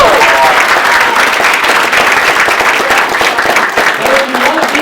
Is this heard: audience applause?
yes